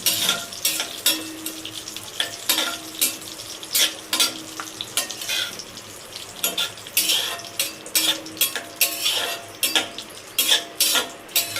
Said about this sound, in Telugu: జీడిపప్పు అయితే ఇలా తీసేస్తున్నాను.